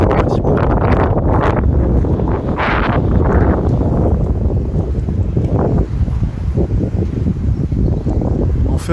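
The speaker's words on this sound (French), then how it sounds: "Je sais pas si on va vraiment m'entendre avec tout le vent qu'il y a." Strong gusts buffet the microphone on a canal bank along the Canal du Midi, a constant loud roar of wind with rushing surges, with no clear voice over it.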